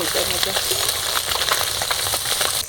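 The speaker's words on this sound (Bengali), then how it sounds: "এগুলো মাছ ভাজতে বেশি একটা টাইম লাগে না" Small whole fish sizzle and spit in hot oil in a pan, a dense continuous crackle with no pauses throughout.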